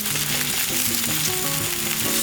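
Minari and shrimp pancake sizzles in an oiled pan, a dense continuous crackle and hiss of frying batter, close and loud with no talking.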